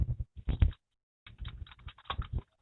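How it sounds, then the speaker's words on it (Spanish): Rapid typing on a brand-new computer keyboard, with bursts of quick key clicks, a short pause, then another run of tapping close to the mic. "Ay, no jodas, ¿qué pasó con este teclado? Ay, este teclado está descuadrado,"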